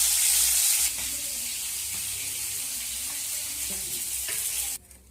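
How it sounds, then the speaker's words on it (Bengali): Pangas fish sizzles in frying oil, a steady crackling hiss with a few soft turning knocks, close and loud until it drops away at the end. "এখানে মাছগুলো আমি উল্টে পাল্টে ভেজে নিয়েছি।"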